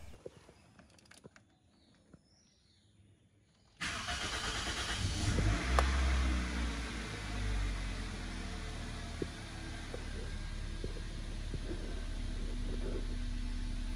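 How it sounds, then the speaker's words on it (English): A quiet rumble suddenly jumps louder as the engine of a 2002 Toyota Premio with a P0171 lean fault catches, then settles into a steady idle with a low drone and faint rattles. "let's go to the graph mode and let's start the car"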